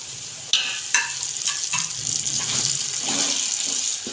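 Mixed vegetables for pulao, with tomatoes and green chillies just added, sizzle and get stirred in a pan, giving a continuous frying hiss and a few scraping stir sounds.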